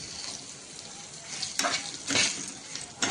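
Coriander seeds and chopped onion fry in a pan for a traditional Marathwada black-masala mutton, giving a steady close sizzle with several louder surges of crackle as the pan is stirred.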